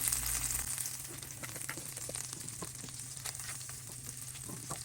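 Four tablespoons of butter melt in a pan to start a roux for fried sauerkraut. A steady, close sizzle plays alone, with light crackles and scraping stirs throughout.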